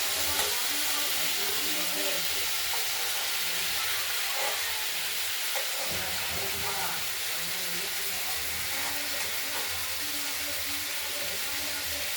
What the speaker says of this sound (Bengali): কুমড়ো ভাজা করতে বেশিক্ষণ লাগে না একটু ঢেকে ঢেকে ভাজলে তাড়াতাড়ি হয়ে যায়